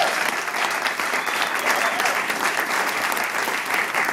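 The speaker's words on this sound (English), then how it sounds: "We've already given a hand to Donna Blanchard, but I think she deserves at least one more" An awards-ceremony audience gives sustained applause, a dense, steady wash of clapping from a large crowd that holds at an even level throughout.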